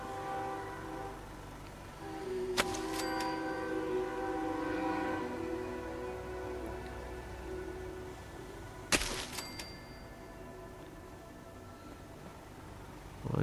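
A train rolls by in Fallout 4 with a continuous low rumble, broken twice by sharp, loud bursts like horn blasts or clanks several seconds apart, with no talking.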